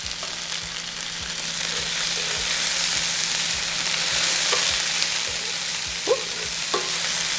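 Fajita vegetables sizzle steadily in a hot skillet with fajita seasoning, a broad constant frying hiss with a few soft clicks of stirring near the end, no voices.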